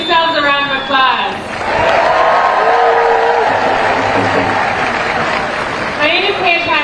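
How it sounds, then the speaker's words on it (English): Crowd at a protest rally in DC breaking into loud, sustained applause with some cheering, while a voice on a loudspeaker talks just before and as the clapping fades. "Give yourselves a round of applause."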